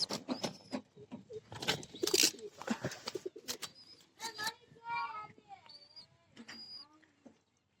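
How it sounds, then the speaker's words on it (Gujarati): Pigeons coo in soft, rising and falling calls amid rustling and a few voices talking nearby. "તો મિત્રો આ એક આવું કબૂતર છે, આ કબૂતરી છે."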